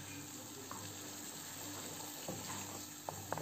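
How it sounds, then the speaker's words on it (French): Tomato sauce simmering in a pan for mini tuna pizzas on sandwich bread, a soft continuous sizzle and bubbling with a few small clicks near the end, faint and close. "Donc on va laisser un petit peu mijoter, quelques petites minutes, le temps que la sauce tomate elle fonde bien"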